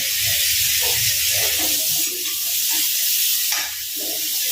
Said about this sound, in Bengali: হলুদ দিয়ে হালকা এটাকে আমি একটু নেড়ে নেবো ভালো করে।